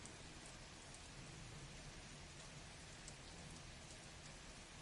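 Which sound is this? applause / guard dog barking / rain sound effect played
rain sound effect played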